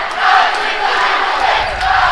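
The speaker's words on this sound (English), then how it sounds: "Crowd is into it early" A basketball crowd at a boys' high school game, DeSoto vs. Hillsboro, cheers and roars loudly and steadily throughout, a dense wash of many voices filling the gym.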